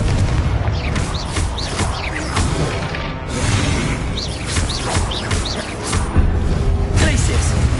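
A Confringo fire spell blasts repeatedly in the Hogwarts Legacy video game, loud booming impacts and whooshing bursts over continuous battle noise with bird-like chirping effects and shouted spell calls.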